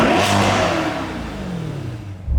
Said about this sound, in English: when you get on it, you hear some car